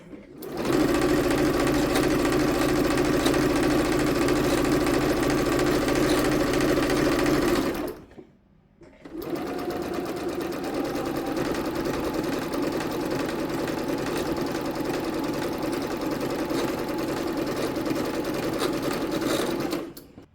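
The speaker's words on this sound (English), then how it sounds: "after you've sewn your lines on either side of the diagonal" A sewing machine stitches lines on either side of a diagonal for quilt half-square triangles, running loud and steady for about eight seconds, pausing briefly, then running on at an even, close hum.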